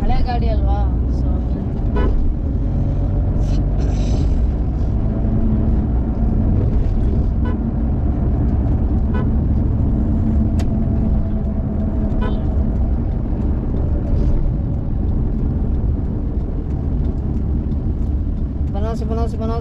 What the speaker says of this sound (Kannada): AC ಹಾಕ್ಕೊಂಡಿದ್ದಕ್ಕೆ ಗಾಡಿ ಪಿಕಪ್ ಸಾಕಾಗ್ತಾ ಇಲ್ಲ. ಹಳೆ ಗಾಡಿ ಅಲ್ವಾ